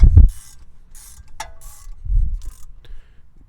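A ratchet tightens a brake caliper bolt on an Audi A6/A7 during a front brake job, giving a few short bursts of quick metallic clicks close up, separated by soft handling knocks and pauses.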